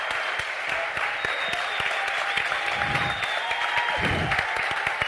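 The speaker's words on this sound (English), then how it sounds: "A big round of applause, ladies and gentlemen." Sustained audience applause fills a book launch event, dense and steady throughout with a faint murmur of voices beneath the clapping.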